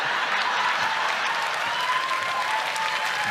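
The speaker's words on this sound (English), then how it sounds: "Why are they cheering?" A studio audience breaks into steady applause with some cheering, a dense continuous wash of clapping at a constant level, with no clear talk over it.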